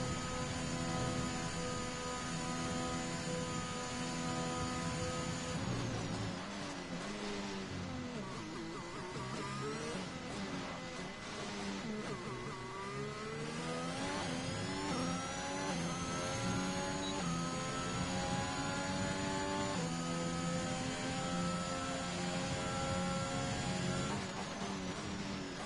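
F1 car engine in the F1 2021 game on a flying lap at the British Grand Prix, a high screaming whine that drops through gear shifts under braking, then climbs and holds at full revs, loud and continuous.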